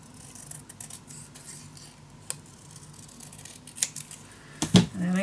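Scissors snip through scrapbooking paper for a mini album, a few quiet, separate crisp cuts spread through a soft, near-silent room, with no talking.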